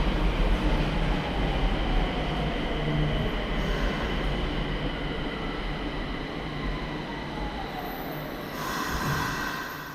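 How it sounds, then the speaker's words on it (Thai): A subway train in Nagoya, Japan rumbles steadily along the tracks, loud and continuous, with faint wheel squeal and rising rail noise near the end. "ก็จะต้องขึ้นรถไฟใต้ดินถึง 2 ต่อเลยครับ"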